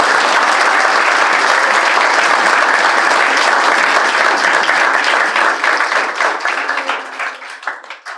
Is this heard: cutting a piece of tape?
no